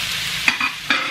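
Two cups of sweet corn kernels going into a simmering pot of shrimp and misua soup, then stirred: a few short, soft scraping and splashing strokes over a steady background hiss.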